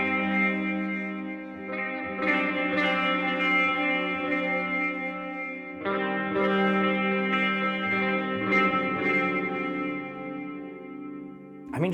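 Electric guitar run through a dual channel delay plugin with tape-style modes and drive, sustained chords ringing with echoing repeats and effects, loud and continuous, a fresh strum near the middle.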